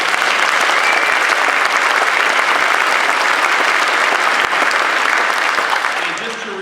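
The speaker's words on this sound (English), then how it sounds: "So give yourselves a big round of applause." Loud, dense applause fills a convocation hall, a continuous roar of many hands clapping at once that holds steady before easing slightly at the close.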